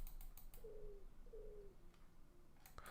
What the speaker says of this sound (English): Wait, the window. I hear pigeons.